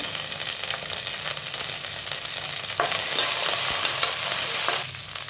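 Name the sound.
curry leaves and garlic sizzling in oil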